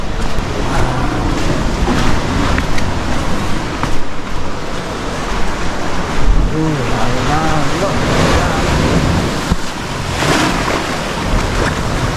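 Ocean surf at high tide on a Bali beach makes a loud, steady wash mixed with heavy wind buffeting the microphone, and a faint engine-like hum passes in the background.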